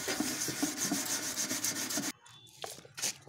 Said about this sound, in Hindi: और उसके बाद फिर देखिए हमको फिर से इसे घिसना है।